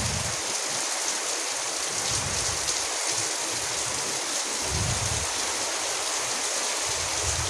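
Heavy monsoon rain pouring over a village, a dense continuous hiss of drops on surfaces with low rumbling gusts underneath, steady and enveloping throughout, no voices.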